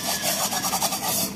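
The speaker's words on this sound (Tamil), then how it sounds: "வறுத்து வச்ச ரவையை சேர்த்துக்கலாம்." Roasted semolina being stirred into a pan of cooking coconut burfi: a continuous dry, gritty scraping and rubbing, close and moderately loud, with no talking.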